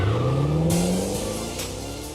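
A Dodge Charger engine revs up with a rising growl that climbs in pitch, then drops off into a lower whir and hum. It is fairly close and heard alone.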